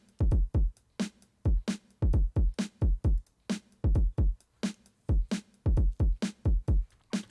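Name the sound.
undistorted drum samples in Studio One Impact sampler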